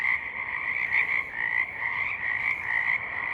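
A chorus frog calls at night in a loud, continuous trilling chorus, steady and close, with rhythmic pulses repeating throughout and no voices.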